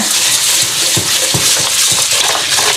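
Rice being rinsed with water inside a rice cooker pot, a steady wet sloshing hiss with soft rhythmic knocks of grains and hands against the pot, close and fairly loud throughout.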